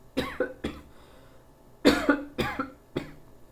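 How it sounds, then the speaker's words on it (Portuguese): A series of harsh coughs, a pair of quick ones, then a louder burst of three or four, close to the listener with brief silences between. "Ai, vai me dar tosse."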